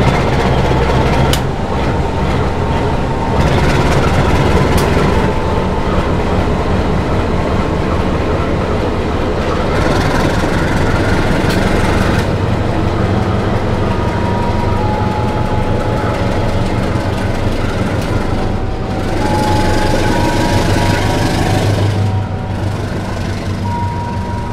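The Kuto Jaya Selatan passenger train at Sidareja station in Java, Indonesia, rumbles steadily past with a running engine drone, clattering wheels and occasional metallic squeals, loud and close throughout.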